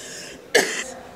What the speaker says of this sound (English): The incense, it's incense everywhere, it makes me cough.